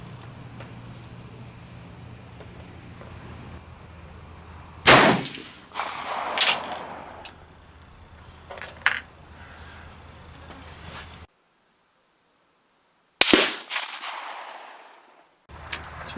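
Swiss K31 rifle shots ring out at an outdoor range, a few sharp loud cracks spaced seconds apart, each trailing a short echo, with a near-silent gap between them.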